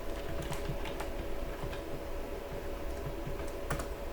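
Password being typed on a computer keyboard, a steady run of light key clicks under a constant hum of background noise, with no one talking.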